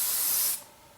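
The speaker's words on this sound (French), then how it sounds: "Donc mon spray fixateur, c'est le Garnier Fruity Style." A single short burst of Garnier Fruity Style hair setting spray, a close, bright hiss lasting about half a second before cutting off to near quiet.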